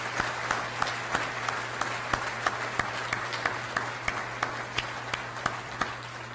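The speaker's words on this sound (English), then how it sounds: "let's give them a big round of applause" Audience applause for a school district's Board of Trustees at a district address: sustained clapping from a large crowd with a steady wash and a few sharp individual claps standing out, over a low constant hum.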